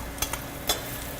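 Mushrooms tossed into a pan of sautéing onions and garlic, giving a few quick soft clatters over a low, steady sizzle.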